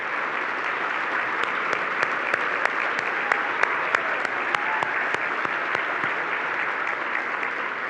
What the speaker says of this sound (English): Let's give these ladies and gentlemen a big round of applause